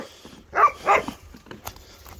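A dog herding cattle gives two sharp, loud barks close by, followed by fainter yips and shuffling.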